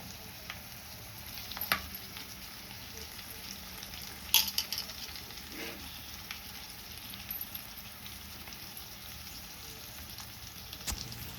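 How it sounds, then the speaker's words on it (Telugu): Chicken fry sizzling steadily in a pan with masala and coriander, stirred now and then with a few sharp utensil clinks against the pan, close and continuous with no talk. "చికెన్ ఫ్రై అయితే కలుపుకోవాలి ఒకసారి"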